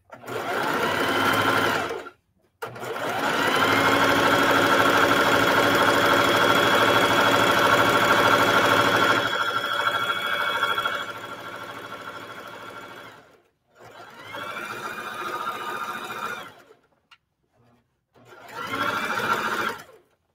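A sewing machine stitches shower curtain fabric in long continuous whirring runs, stopping briefly between bursts, heard up close with no talking over it.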